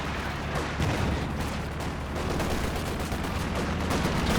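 Dense, steady battlefield fire from Company of Heroes 2, with MG34 machine gun bursts blending into continuous gunshots and distant booms, moderately loud throughout and without voices.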